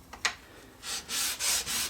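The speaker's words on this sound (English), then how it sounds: "it just takes a quick little hand sanding around your edges here" Quick hand sanding along the edges of a wooden pot scraper: a couple of short scrapes, then three longer, steady rubbing strokes of sandpaper on wood, close and fairly quiet.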